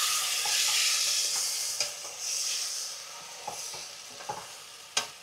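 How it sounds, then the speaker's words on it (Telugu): A spoon stirs marinated mushrooms into biryani masala in a pot, giving a steady sizzle with scraping strokes and a few sharp knocks against the pot. "మష్రూమ్ వేసేసుకొని మొత్తం కలిపేద్దాము"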